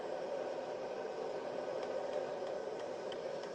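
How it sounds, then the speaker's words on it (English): A Yogasleep Dome sound machine gives off steady, even white noise, a close and unbroken hiss holding constant without pauses or talk. "That's quality white noise right there."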